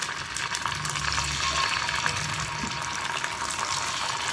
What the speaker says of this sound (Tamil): இப்போ ஒரு தோசை சட்டி வச்சு அதில் எண்ணெய் சேர்த்துக்கிட்டு இப்போ மீனை பொரிக்கிறதுக்காக